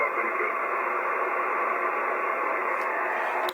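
Steady hiss of amateur radio static fills the whole moment, a weak, muffled signal buried in noise with no clear voice coming through.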